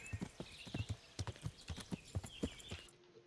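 Horse hooves clip-clop at a steady riding gait in Kingdom Come: Deliverance, close and distinct strikes continuing without pause for several seconds, with a brief whinny-like tone near the end.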